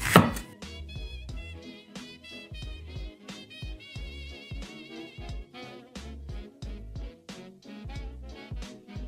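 A knife chops fruit on a board for mulled wine in rapid, irregular close knocks, while music plays loudly underneath.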